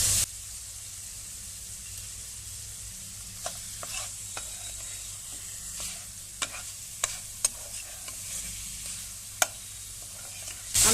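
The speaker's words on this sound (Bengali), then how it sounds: "মশলার সাথে ভালোভাবে মাছের মাথা আমি কষিয়ে নেব" Fish head is stirred and fried with spices in a pan. A steady low sizzle runs throughout, with intermittent sharp scraping clicks from stirring. No one speaks.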